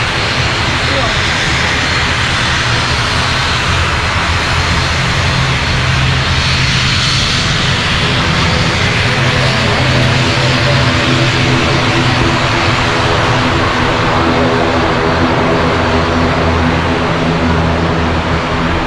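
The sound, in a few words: airplane engine as flight arrives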